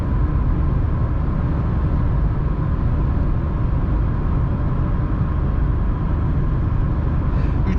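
A Renault Symbol with a 0.9 TCe 90 hp engine drives uphill in fifth gear at about 120 km/h, giving a loud, steady interior rumble and drone that stays constant throughout.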